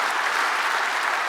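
A church congregation at a worship service claps together in dense, steady applause for the whole short stretch, with no voices standing out.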